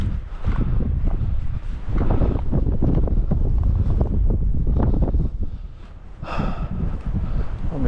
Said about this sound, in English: wind's trying to blow us back down.